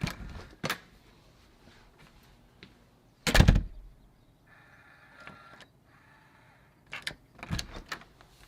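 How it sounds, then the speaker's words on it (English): A door thuds shut with a loud bang, followed by a quiet motorized whirring as an ULTRALOQ Bolt Fingerprint smart lock drives its bolt into place, then scattered clicks. "it locks as soon as you shut the door"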